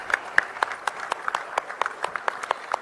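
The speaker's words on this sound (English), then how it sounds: "let's give them a huge round of applause" Audience at the Durand Cup trophy display ceremony claps in scattered, uneven bursts, distinct individual claps standing out over a thinner round of applause at moderate distance.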